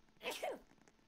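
A single short sneeze from a virus-infected character in the Roblox game Natural Disasters, quick and fairly faint, with no talk over it.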